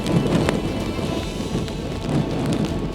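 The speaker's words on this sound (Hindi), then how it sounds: "अभी जो हवाओं की रफ्तार है वो उसी तरह से है, अभी जो बारिश है वो उसी तरह से हो रही है।" Heavy rain and strong wind lash the coast of Odisha during Cyclone Dana, making a steady, dense roar of downpour and gusts that stays loud and constant throughout.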